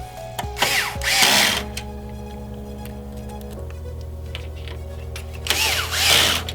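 An electric screwdriver whirs in short bursts, tightening screws during an AMD Ryzen 9 3900X liquid-cooled gaming PC build: a spin-up, a steady lower drone as the screw seats, then another loud burst, close and without talk.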